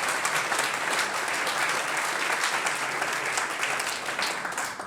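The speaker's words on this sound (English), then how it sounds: "time trial deserves a round of applause" Steady applause from a room full of people at a cycling club awards night, a thick rush of clapping that holds constant and eases slightly at the end.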